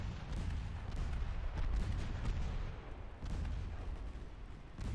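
Ship guns from torpedo boats firing in the naval battle game Ultimate Admiral Dreadnoughts: a steady, loud roar of overlapping booms and heavy low rumble with no clear gaps, and no voices.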